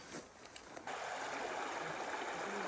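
Moose Creek runs past a backpacking campsite in the Bob Marshall Wilderness, a steady close rushing of water that swells in abruptly and holds as a broad even wash, with faint knocks before it.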